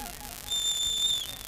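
A child whistles a few steady, high, thin tones lasting under a second, fairly faint over quiet background hiss, with no talking.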